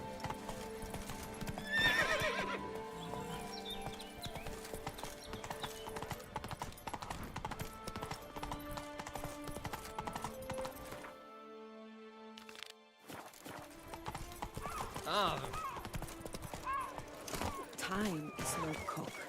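Horse hooves clip-clop at a gallop in The Witcher 3 video game, a steady loud rhythm with whinnies and game music, briefly dropping out midway before resuming, with a voice speaking over it.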